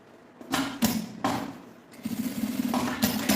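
A sewing machine stitches fabric pieces of a bellows pouch, running in several short, close bursts of rapid mechanical whirring and clatter, ending in a steadier run.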